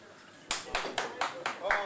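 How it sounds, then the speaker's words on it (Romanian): A handful of sharp, evenly spaced claps ring out in a quick rhythmic run from an audience at a 2008 stand-up comedy show, each clap loud and distinct against a quiet room. "Așa e aplaudat."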